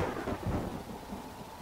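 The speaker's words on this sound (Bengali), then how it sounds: "হৈ হৈ করে আকাশ থেকে নেমে এলো অজোর ধারা বৃষ্টি, সঙ্গে তুমুল হাওয়া" Heavy monsoon rain and wind in the Dooars region with a deep rolling rumble of thunder, a brief dense wash of storm noise used as an audio story effect, no voices.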